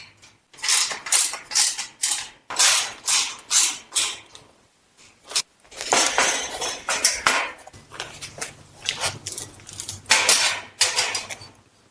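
Bolts being tightened on an overhead garage storage rack bracket, heard as repeated rapid metallic ratcheting bursts with clinks and short pauses between strokes, close and fairly loud, with no voices.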